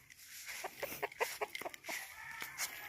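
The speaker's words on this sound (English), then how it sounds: "Hi there. You're a big rooster." A big rooster and hens on Kauai give a rapid series of short, rhythmic clucks, about eight in quick succession, followed by scattered calls, close and moderately loud outdoors.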